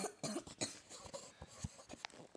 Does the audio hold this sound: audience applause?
no